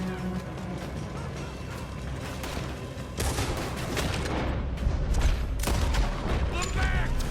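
Red Dead Redemption 2 shootout during a robbery getaway, a dense continuous barrage of gunshots and booms under a rumbling backdrop, growing louder and busier midway.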